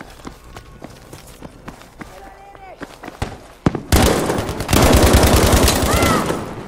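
Rapid bursts of automatic gunfire and explosions from a Battlefield V match erupt partway through and stay loud and dense to the end, with a voice talking over the earlier, quieter stretch.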